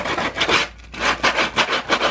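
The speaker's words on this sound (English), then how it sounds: "sandpaper and just sand off the edges just so that they're not sharp." Sandpaper rubbed by hand along the sharp cut edges of a rubber mudflap, giving a run of close, steady back-and-forth rasping strokes with one brief pause.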